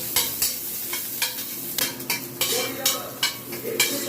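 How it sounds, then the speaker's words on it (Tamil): Curry leaves sauté in a pan for a tamarind okra curry, with a constant oily sizzle broken by a regular rhythm of spoon strokes scraping the metal, close and fairly loud. "கொஞ்சமாக கருவேப்பிலையை போட்டுருங்க. போட்டு நல்லா வதக்கிடுங்க."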